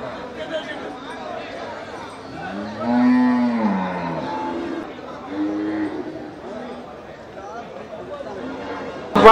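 A native-breed cow at the Melapalayam cattle market lets out a long, loud moo, followed by a second shorter one, over a steady crowd murmur and nearby chatter.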